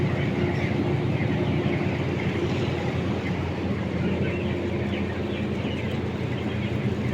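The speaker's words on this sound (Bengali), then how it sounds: "এগুলো বক্স ফ্যান।" Eight box fans run together inside a poultry farm shed, making a steady, loud, continuous whirring roar that fills the space without pause.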